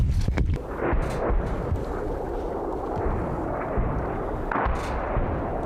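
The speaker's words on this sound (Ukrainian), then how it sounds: "Виходи граду. Виходи града." Heavy rumbling barrage of Grad multiple rocket launcher launches and booms, continuous and loud, with sharper blasts punctuating the roar.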